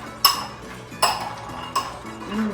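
Greek herbed spiced nuts are stirred in a pan, with a few distinct clinks of utensil on metal over soft rattling, close and clear.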